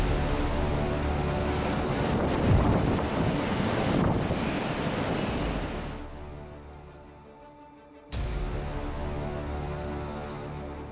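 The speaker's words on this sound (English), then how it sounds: "Each wave crashes over the ship's bow, drenching it with an unexpected shower." Stormy North Sea waves crash over a ship's bow in a loud, roaring wash of surf and wind buffeting. The sound drops briefly, then surges back abruptly.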